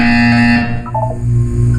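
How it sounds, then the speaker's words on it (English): A loud electronic buzzer blares in the Portal 2 video game, a harsh steady tone lasting under two seconds that wavers slightly partway through. "You will hear a buzzer."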